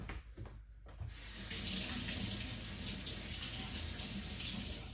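Kitchen tap runs steadily into a sink while something is rinsed off, a close, continuous hiss of water that starts after a brief sputter and stays even.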